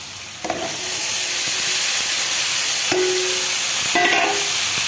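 Spices and potatoes fry in a pan, a loud steady sizzle and hiss throughout with a few short scrapes from stirring near the start and end.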